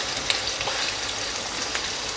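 Chapli kebabs fry in a pan with a dense, steady crackling sizzle that sounds like rain on a surface, heard close and continuous for a couple of seconds, with no speech.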